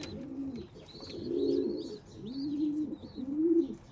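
Stock pigeons in a loft, including a white bird, cooing in several soft, low, rolling phrases, close and clear, with faint higher chirps in the background and no talk.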